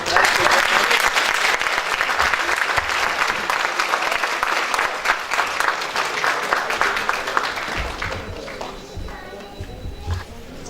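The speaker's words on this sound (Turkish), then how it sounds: "alkış rica ediyoruz" Audience at an Atatürk commemoration program breaks into loud, dense applause that holds for several seconds, then thins out into scattered claps, shuffling and footsteps as it fades.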